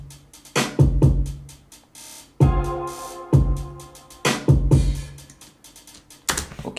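Funky guitar phrases layered over a drum beat in a beat-making session, with sharp punchy hits recurring in a loose groove and sustained tonal chord stabs ringing between them.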